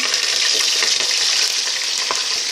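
Chopped shallots and curry leaves fry in hot oil in a pan, giving a steady, loud, dense sizzle throughout with faint stirring and no talking.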